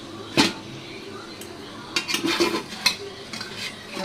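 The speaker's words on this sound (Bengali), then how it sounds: "এই যে ঢাকনা দিয়ে দিলাম" A lid is set onto a pot of mutton being braised and stirred, with a few sharp metallic clinks and clatters of pot and utensils, close by, over a faint low kitchen background.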